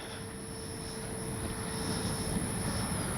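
A Freewing JAS-39 80mm electric ducted-fan RC jet makes a gear-down pass, a steady, moderately loud whooshing roar with a high whine held throughout, heard alone.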